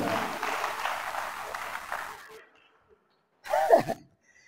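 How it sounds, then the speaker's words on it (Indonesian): Congregation applause at a church revival service in Manokwari, a lively burst of clapping from the crowd that fades out after about two seconds into silence before a brief voice sound. "Beri tepuk tangan yang meriah begitu."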